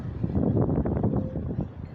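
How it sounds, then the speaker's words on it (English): Steady wind buffeting the microphone outdoors near the Danube in Bratislava's Old Town, Slovakia, a loud low rumble with gusty fluctuations and no voices. "it's quite windy"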